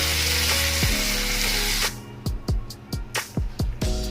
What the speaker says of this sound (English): Let's stir it really good and let it cook for some more time.